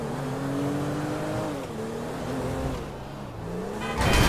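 A car in the video game GTA V drives and revs, its engine climbing and dropping in pitch as it shifts through gears, loud and near, ending with a burst of harsher noise.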